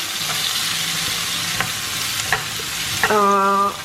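Chopped vegetables for a chicken lasagna filling sizzle steadily as they are sautéed together in a pan, with soft stirring scrapes and a few sharp clicks, near and even, with a brief tonal beep near the end.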